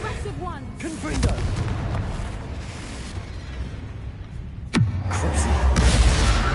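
A Confringo explosion spell from the Hogwarts Legacy game bursts with a booming impact under a shouted voice, followed later by a sharp whooshing sweep and a heavier rumbling blast.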